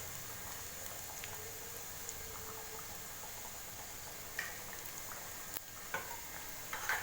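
Onions sauté gently in a pan for lady's finger curry, a soft, even low sizzle with occasional faint clicks of stirring, quiet and close with no voices.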